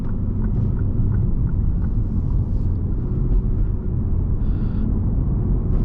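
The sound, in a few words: Lexus GS F 5-liter V8 engine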